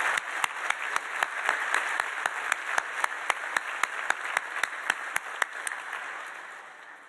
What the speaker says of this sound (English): Please join me again in a round of applause for all companies and individuals who joined us as Centennial partners.